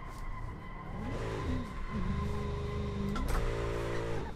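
A virtual car engine in Assetto Corsa revs high and climbs in pitch, then drops when a gear shift is missed on the Nordschleife before surging again, loud and steady throughout with tire noise underneath and no talking.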